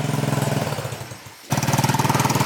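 A GY6 150cc scooter engine, freshly repaired, runs close by with a rapid chugging pulse that dips briefly, then picks back up louder and steadier.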